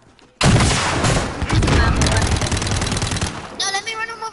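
Enemy gunfire in a Naruto video game bursts suddenly into loud, rapid automatic shots that rattle on for several seconds, with a voice briefly heard under the barrage.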